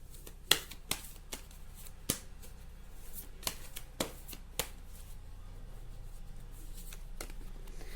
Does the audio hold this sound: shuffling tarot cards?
yes